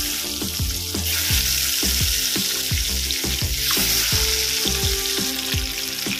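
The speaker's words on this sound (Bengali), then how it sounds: "মাছের 2 পিঠি ভাজা হয়ে গেছে" Pieces of aar fish fry in hot oil in a home kitchen, giving a steady close sizzle and crackle with a few utensil knocks, and no one speaks.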